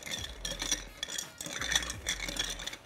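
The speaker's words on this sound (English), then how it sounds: "Let's stir a little so that" Spoon clinking and scraping softly against a glass while two liquors are stirred together for a cocktail, a quiet rhythmic swirl with no talking.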